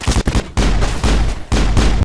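Heavy enemy gunfire in the Mass Effect video game, dense loud bursts of shots and booms filling the space with brief gaps between volleys, no talking.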